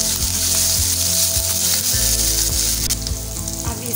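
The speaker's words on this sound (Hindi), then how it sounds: "इसमें 1 टेबलस्पून ही लहसुन अदरक का हम पेस्ट डालेंगे और इसका हम तड़का तैयार करेंगे" Garlic-ginger paste sizzles hard in hot oil for a tadka, a loud continuous frying crackle with faint stirring scrapes and no talk.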